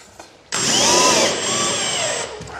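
A power drill drives screws into timber for a repair, whining loudly with a rising and falling motor pitch for about two seconds before winding down, close up and with no voices.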